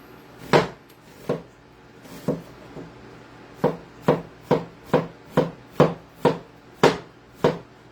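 A knife chops through an onion on a cutting board, slicing it thin in a string of sharp, close knocks. A few strikes come spaced apart, then a steady even run of rapid cuts follows, with no talking.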